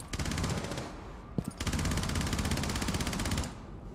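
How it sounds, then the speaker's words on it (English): Automatic gunfire in the tactical shooter Rainbow Six Siege, with loud, rapid sustained bursts, a short break, then another long burst of shots from close range. "they're shooting me from above"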